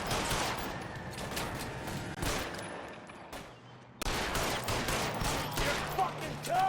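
Gunfire in the L.A. Noire video game, a rapid fusillade of shots in clustered bursts with a brief lull midway, mixed with game sounds and some talking.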